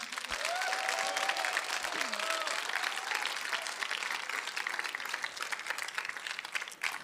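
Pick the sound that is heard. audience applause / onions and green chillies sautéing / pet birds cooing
audience applause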